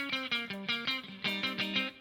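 A few short, chopped guitar chord strums in a quick rhythm from a song part, with a slight gap as the fingers reset, fairly soft and close, no talking.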